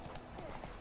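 Hooves of Roach, the horse in The Witcher 3, clip-clopping in a quick, steady rhythm close by, with game sounds and a voice talking over the hoofbeats.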